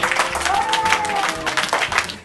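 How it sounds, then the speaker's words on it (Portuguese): Audience applause at a Brazilian church talk as a seminarian guest is welcomed, a dense, steady wash of clapping lasting the whole moment with a faint voice briefly audible beneath it. "Uma salva de palmas."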